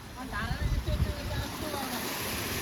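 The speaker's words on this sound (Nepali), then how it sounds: "बाहुबलीको झरना हो यो बाहुबलीको झरना" The Bahubali waterfall pours as a steady, broad rushing roar, with a few people talking faintly over the continuous water noise.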